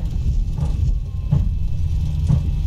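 A Boeing 737 landing in the X-Plane 11 flight simulator with reverse thrust and braking makes a steady low rumble broken by a few soft periodic thumps, with no talk.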